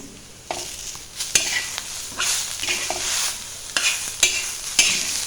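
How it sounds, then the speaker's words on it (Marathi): Radish pieces frying on a hot tawa griddle pan for a mooli bhaji, with a steady sizzle broken by several sharp scrapes and clanks of stirring, close and fairly loud, with no talking. "आपला हा मुळा आहे तो चांगला तव्यामध्ये फ्राय करून घेतलेला आहे मी"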